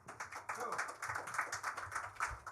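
Audience applause at a climate finance conference session, a sustained, even wash of many hands clapping, moderately distant and fairly quiet, with no talk over it.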